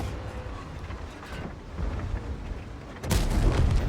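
A tank cannon fires in World of Tanks, a single heavy boom bursting out near the end over a rumbling, windy battlefield backdrop, loud and close with no voices.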